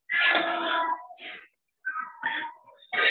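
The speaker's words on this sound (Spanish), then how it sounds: "Sí, es un gato que está maullando." A stray cat meows indoors near a kitchen, giving a long loud wavering cry followed by several shorter meows with brief pauses between them, close and clear with no talk.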